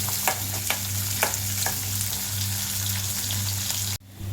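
Cumin seeds and cashews with onion frying in hot oil while stirred in the pan, a steady close sizzle with a low hum underneath and several sharp stirring clicks, dropping off abruptly near the end.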